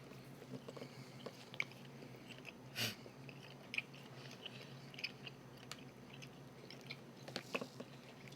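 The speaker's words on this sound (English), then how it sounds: "that's why we edit out the chewing" Filled Twizzlers candy is chewed close to the mic, quiet wet mastication with a few sharper crunchy bites, no talking.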